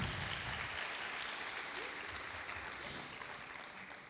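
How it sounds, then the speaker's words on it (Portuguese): A church congregation applauding during a worship service, dense continuous clapping from a large crowd, steady and somewhat distant, fading slightly toward the end. "Vamos aplaudir essas vidas aí,"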